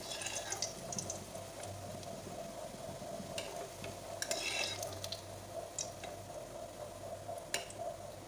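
Bread pakora frying in hot oil in a kitchen, a steady soft sizzle running throughout with occasional stirring clinks and light spatter, no voices.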